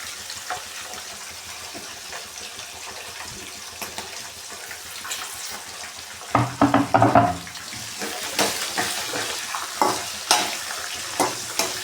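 Onions frying in a pan with curry leaves, giving a steady sizzle with stirring scrapes and louder bursts of crackle partway through, close and with no one talking.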